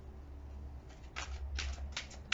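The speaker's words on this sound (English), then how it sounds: "A couple more shuffles" Tarot cards shuffled by hand close up, quiet at first, then several short riffling bursts in quick succession with no talk.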